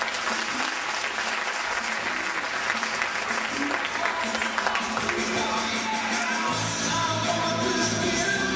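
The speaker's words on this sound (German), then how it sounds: "Applaus" A crowd applauds at a gymnastics competition, dense sustained clapping with scattered yells and whoops, loud and filling the space and swelling slightly toward the end.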